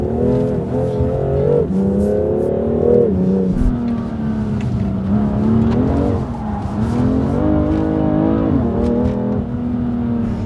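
A 2018 Audi RS3 Sedan revs hard and accelerates, its engine note loud and close, rising and dropping through repeated surges with brief tire noise mixed in, no voices.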